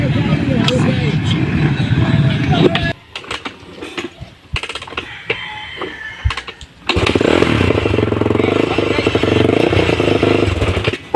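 A Honda CRF 450R dirt bike with a hard-starting problem is kicked over and revs in loud bursts. It drops out and sputters through short cranking attempts, then catches and runs steadily.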